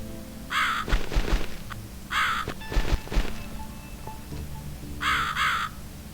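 A crow in the game The Cat Lady gives three separate harsh caws spaced a couple of seconds apart, clear and fairly close, with heavy thudding footsteps and a low ambient hum between them.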